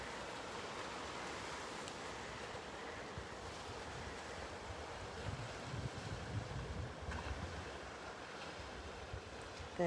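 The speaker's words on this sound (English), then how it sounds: "Can you hear that wave?" Sea waves wash steadily onto the white sand beach at Cala de la Fustera on the Benissa coast, a continuous broad surf roar with a swell building near the middle, heard alone with wind buffeting the microphone.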